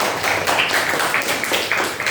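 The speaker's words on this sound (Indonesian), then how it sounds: "silakan beri tepuk tangan buat kelompok kita" Classmates applauding a student group in a classroom, a steady, dense patter of many hands clapping together for about two seconds with no pauses.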